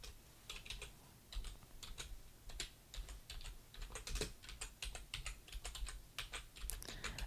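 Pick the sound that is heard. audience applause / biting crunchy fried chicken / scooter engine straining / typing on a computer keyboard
typing on a computer keyboard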